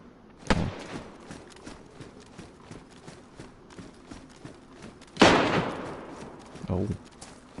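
Distant gunshots in the survival game DayZ on PS4: a few sharp single reports spaced seconds apart, with a louder crack near the middle and a softer one after, over quiet ambient background.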